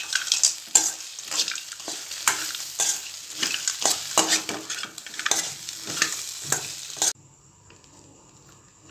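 Mini puri and egg podimash being stirred in a pan, a spoon scraping and clinking in quick irregular strokes over a light sizzle for about seven seconds, then the stirring stops and only a faint hum remains.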